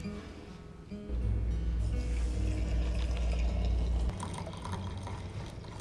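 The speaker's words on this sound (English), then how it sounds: "And then I'm going to pour in about a cup of water." Hot water pours from a kettle into a cup holding a teaspoon of loose tea, a steady rushing stream that starts after a second, runs for about three seconds, then eases off as the cup fills.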